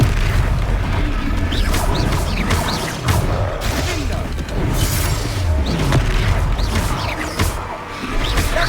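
Confringo fire spell blasts in Hogwarts Legacy combat, a series of repeated booming explosions and crashes over a rumbling battle background, loud and busy throughout.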